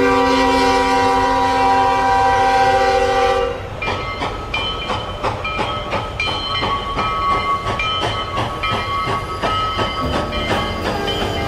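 A loud, sustained train horn blares for several seconds, then gives way to the steady rolling rumble and rhythmic clickety-clack of railroad cars passing close by.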